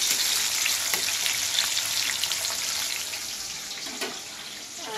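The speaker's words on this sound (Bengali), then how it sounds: "বিলাতিটা একটু ভাজা হোক" A tomato and bay leaves frying in a pan for a cabbage curry, an even close sizzle with a few light stirring taps, fading slightly toward the end.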